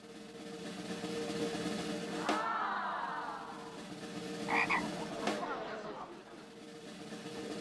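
A cartoon frog croaks in a few short, loud bursts over steady background music, in a Mr. Men and Little Miss animated episode.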